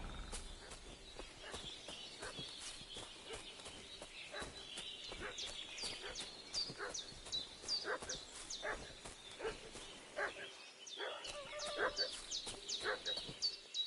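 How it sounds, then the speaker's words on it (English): A dog barks repeatedly and whines in the medieval world of Kingdom Come Deliverance II, a steady run of sharp barks with whimpers and fussing over outdoor ambience and birdsong, fairly close throughout. "What's that dog making such a fuss about?"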